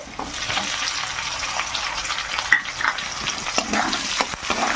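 Bay leaf, garlic, green chili and onion fry in hot oil for a cabbage and rohu fish head dish, a steady close crackling sizzle with a few stirring clatters from a utensil, no talking.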